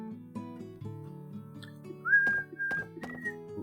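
A person whistles a few short, clear notes, some sliding upward, over a soft background of game music and sound effects.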